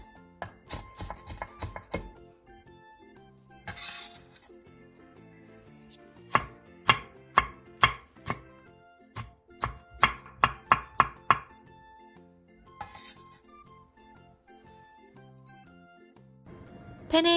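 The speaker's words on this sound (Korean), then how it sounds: "대파 2분의 1개와 홍고추 1개를 길게 어슷썰게 해주세요" Green onion and red chili sliced lengthwise on the diagonal with a knife, a series of crisp knife-on-board chops in quick bursts, close and clear, with a tonal melody playing under them.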